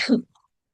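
A single short sneeze, close and fairly loud, bursting out and stopping within a fraction of a second, followed by silence.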